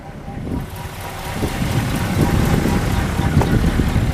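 A 1960 Ford Thunderbird two-door hardtop idles quietly with a low, steady rumble from its dual exhaust, heard close and holding even throughout.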